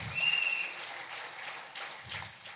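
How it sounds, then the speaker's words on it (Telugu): Faint, short burst of audience clapping at an agricultural training session, a soft patter of many hands with no talk. "ఒకసారి మీకు ఒకసారి బిగ్ రౌండ్ ఆఫ్ అప్లాజ్"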